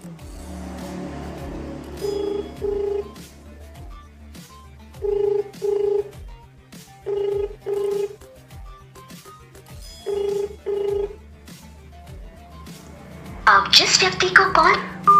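An outgoing phone call rings back through the handset in repeated double-pulse tones at a steady, even pace, followed by a short burst of louder noise at the end.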